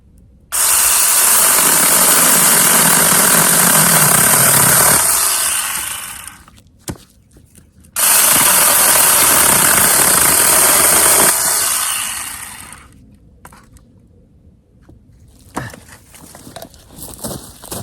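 A SeeSii 6-inch battery mini chainsaw cuts firewood into shorter lengths, running in two loud high-pitched bursts of several seconds each, separated by near silence and ending with softer handling clatter.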